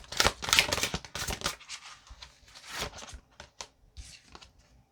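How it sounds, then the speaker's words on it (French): A card is drawn from a deck during a tarot-style reading, with crisp shuffling and flicking of cards in quick bursts close up, followed by a few softer taps and slides, with no voices. "Je vais tirer quand même une dernière carte pour voir si c'est bon."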